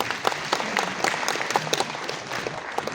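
Loud applause breaks out at the inauguration of the Maharashtra-Jammu & Kashmir Friendship Chapter, a crowd clapping steadily with sharp individual claps standing out from the dense wash.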